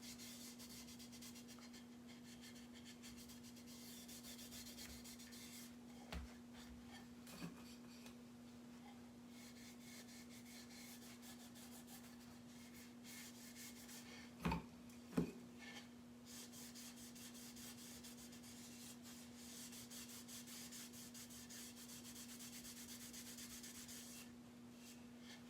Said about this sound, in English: I'm probably going to end up taking my sander and sanding this paper into the wood a little bit.